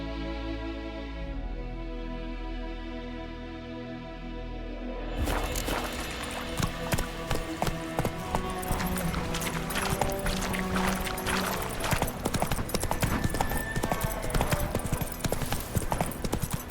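Hooves of Roach, Geralt's horse in The Witcher 3: Wild Hunt, clip-clopping in a brisk, steady rhythm that starts abruptly partway through after a quieter, droning stretch, close and clear with no speech over it.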